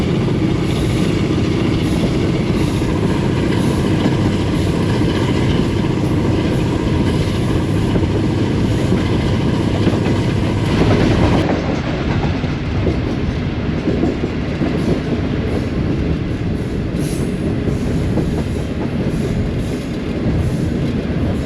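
A diesel locomotive pulling the Tezgam express rumbles steadily along the track in Pakistan, loud and continuous, with a deep engine drone and rattling wheels throughout.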